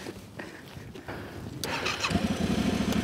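A motorcycle engine cranks and fires up, starter chatter giving way to a rumbling, pulsing idle that grows louder, close by with no talk.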